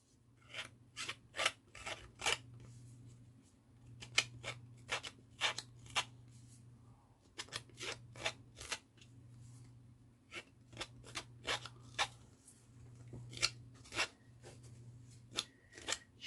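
Scissor blades scraped along the paper edges of a small winter-themed craft minibook to distress them, a series of close, crisp rasping strokes in quick clusters with short pauses between, and a faint low hum underneath.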